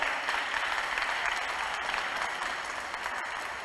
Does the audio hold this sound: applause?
yes